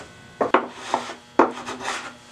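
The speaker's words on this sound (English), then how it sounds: "A little block plane is a great way to trim the plugs flush when the glue is dry." A small block plane shaves dry glued wooden plugs flush with a wooden divider, making several quick scraping strokes in an uneven rhythm. The strokes are close and crisp with brief pauses between them, and no one talks.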